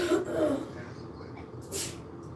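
A single sharp sneeze from an adult at home, with a brief breathy intake and then a burst of noise, heard close and fairly loud in a quiet room.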